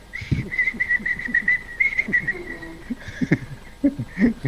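A person whistles a sustained, wavering tune during a radio broadcast, with faint voices and low background sounds underneath.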